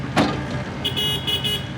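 A vehicle horn sounds in a few short, bright toots as a signal during tree felling, after a dull knock, heard at moderate distance over outdoor background noise.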